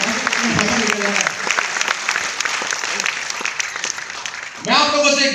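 Audience applause at a Hindi-language public talk: dense, steady clapping that fills about five seconds, with a brief dip near the end and a louder burst at the close.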